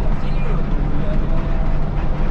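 A vehicle engine revs during a mountain trip to Gunung Mulia, a steady loud low rumble filling the space with faint chatter running beneath it.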